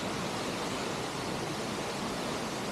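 Laxapana waterfall pours in a steady, dense, broadband rush of falling and flowing water, loud and continuous throughout, with no voices.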